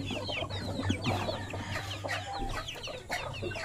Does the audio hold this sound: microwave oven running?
no